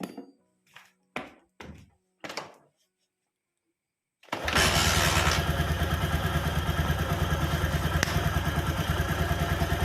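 A Honda Megapro motorcycle fitted with a CB100 timing chain: several short kick-start clunks, a silent pause, then the engine fires and settles into a loud, steady, even idle close by.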